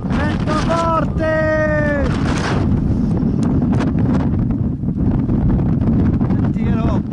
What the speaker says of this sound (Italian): Senti che roba, oh, senti che vento!